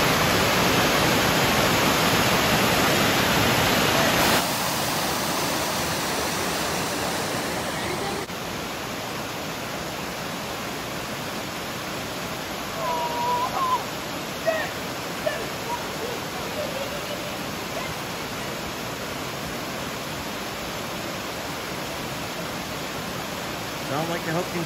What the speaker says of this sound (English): I mean, look at the waterfalls.